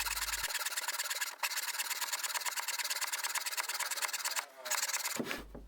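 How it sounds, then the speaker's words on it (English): Tenon saw cutting through a wooden plank, a close, fast, even rasp of back-and-forth strokes that runs almost unbroken for several seconds before briefly stopping. "I'll count how many strokes it takes the tenon saw to cut through this plank."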